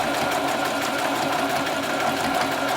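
A sewing machine runs steadily while stitching a skirt, a fast, even mechanical whir with a rapid needle rhythm, close and alone.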